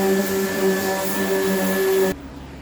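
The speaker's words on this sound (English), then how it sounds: "I'll use a little palm sander, get these final little areas" Electric palm sander working over a DIY solar boat top, a steady close buzzing whine with a tonal hum that cuts off abruptly near the end.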